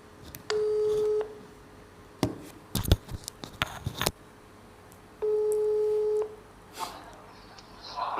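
A mobile phone call gives two long, even ringing-tone bursts. Between them come sharp clicks, knocks and handling clatter, close and fairly loud.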